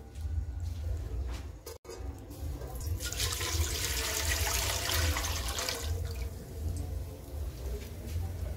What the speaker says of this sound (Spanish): Aquí tenemos 3 vasos de agua y se lo voy a echar.